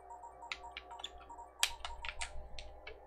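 Typing on a computer keyboard during a gaming livestream produces sparse, faint key clicks at an irregular pace over a quiet, steady background hum.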